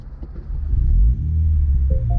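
A 2019 MINI John Cooper Works Convertible engine cranks and catches, rising into a loud low rumble that settles to a steady idle, recorded from inside the car, with a soft chime near the end.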